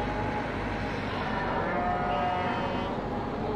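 Cows mooing in the Farming Simulator 17 video game, with a low, drawn-out bovine call rising over steady farm ambience, moderately loud and close, no talk over it.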